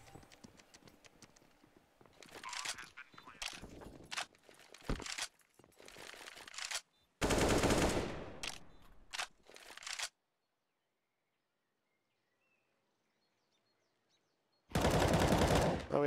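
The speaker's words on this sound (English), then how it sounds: "The one-man tap burst firing on to TB, but TB will take him out" Counter-Strike gunfire on the Inferno map during a TyLoo versus CyberZen esports match: scattered sharp shots, then dense loud bursts of rapid fire around the middle, a long silence, and another heavy burst at the end.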